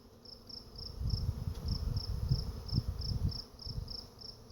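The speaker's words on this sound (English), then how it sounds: "honeybees" A swarm of migrating honeybees, heard as a soft, steady insect buzz and hum in the open air, with a faint repeating high chirp and low rumbles underneath, with no voices.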